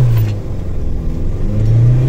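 A Mahindra Scorpio launches off the line in a drag race, its engine rumbling loud and close with a low, rising growl that stays strong throughout.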